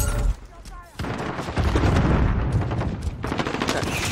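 Rapid gunfire and bursts from Call of Duty Modern Warfare gameplay, loud and close, with a brief quieter gap before sustained shooting resumes over the rest of the clip.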